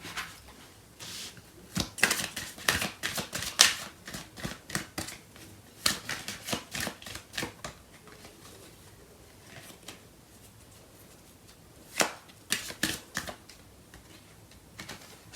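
Tarot cards are shuffled by hand in rapid clustered flutters and soft slaps, close and fairly quiet, stopping and starting in uneven bursts.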